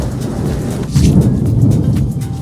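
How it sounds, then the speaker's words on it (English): Steady rain pours down in Split, Croatia, with a low rumble of thunder rolling through it, loud and close, with no voices. "As soon as we got up to the top, it started raining"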